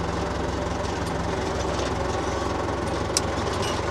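A tractor engine runs steadily with a dense, even mechanical rumble, heard close and continuous during hay-field work, with one faint click near the end.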